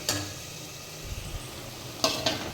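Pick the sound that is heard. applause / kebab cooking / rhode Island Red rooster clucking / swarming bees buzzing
kebab cooking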